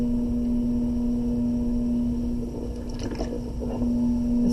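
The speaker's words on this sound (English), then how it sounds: "This clay's a little stiff, so I'm going to squeeze it up into a cone and add water." Stiff wet clay squeezed up into a cone and centered on a spinning potter's wheel, soft squelching and wet squishes over a steady motor hum, close up and without talk.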